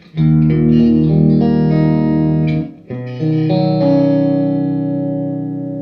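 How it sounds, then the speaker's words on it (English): An electric guitar played through a Roger Mayer Voodoo Vibe pedal on a slow chorus setting sounds loud sustained chords that swell and warble. One chord rings, cuts briefly, then a second chord sustains and slowly fades. "we'll have a relatively slow chorus sound, and you can hear how this sounds"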